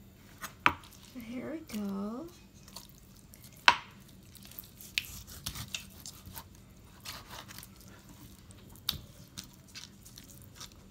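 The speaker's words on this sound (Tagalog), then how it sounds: "first we need to cut it small slices" A knife slices chicken breast into small pieces for tacos, giving faint, sparse taps and chops spread across the stretch, with brief quiet talk near the start.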